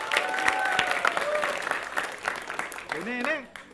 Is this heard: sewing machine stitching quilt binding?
no